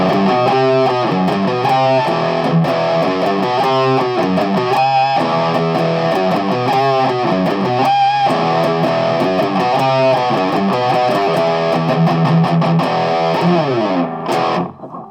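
An electric guitar plays loud, sustained chords and riffs through a Boss DS-2 Turbo Distortion pedal with the distortion maxed out, giving a dense, buzzing, saturated tone that rings continuously before cutting off at the end.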